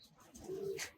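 A single pigeon gives a short, soft coo, fairly faint and close, with a brief chirp at the end.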